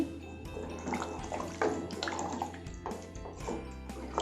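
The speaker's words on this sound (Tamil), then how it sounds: "இப்போது 1 கப் தண்ணி ஊற்றுறேன்." Water poured from a cup into a pressure cooker of rice for lemon rice, a quiet, close splashing and trickling with uneven bursts.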